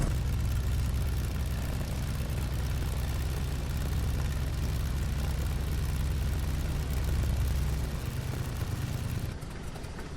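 A DC Designs Stearman biplane taxiing in Microsoft Flight Simulator at Headcorn, its radial engine and propeller droning in a deep, steady rumble that softens near the end, with no voices.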